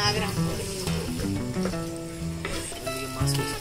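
A pot of Rayalaseema-style fish curry being stirred, a close bubbling sizzle with scraping strokes, mixed with tonal background sounds throughout.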